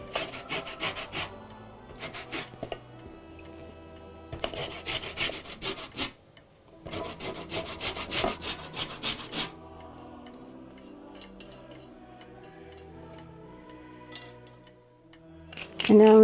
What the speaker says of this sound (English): So now I'm going to grate in the rind of 2 oranges and 2 lemons.